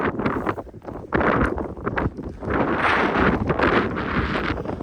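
Heavy wind buffets the microphone in loud, rumbling gusts that rise and fall on open moorland at night, almost continuous and close.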